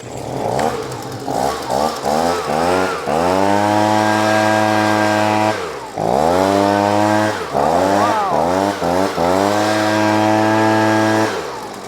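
Small two-stroke leaf blower engine with a repaired carburetor and primer bulb fires after a pull start, revving up and down in loud close bursts, dropping briefly to idle midway before roaring back, no talk over it.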